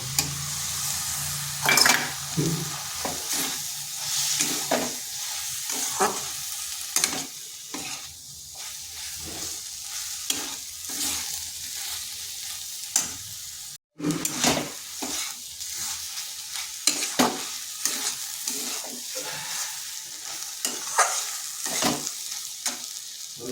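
Drumstick flowers fry in a pan with green chillies and a pinch of sugar, sizzling continuously while a spoon stirs and clanks against the metal pan in an uneven rhythm.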